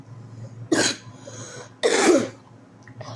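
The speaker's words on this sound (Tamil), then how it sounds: "சார், இங்கே கொஞ்சம் இருமல் இருக்குது." Two loud coughing bursts from a person nearby, each a dense rough hack lasting about a quarter second, separated by a short pause, with a faint third cough starting at the very end.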